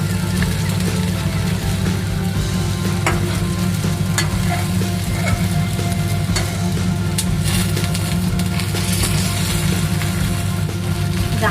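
Stuffed okra (bharli bhendi) fries in oil over low gas, a loud, dense, unbroken sizzle heard close up, over a low steady hum, with no one speaking.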